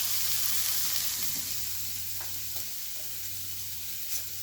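Soy sauce hitting a hot pan of mushrooms in a vegan lettuce wrap stir-fry, a steady close sizzle and hiss with a low hum beneath and a few faint clicks, with no voices.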